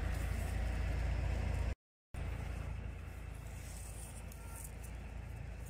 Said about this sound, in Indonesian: ini suara mesin panen ya di ladang orang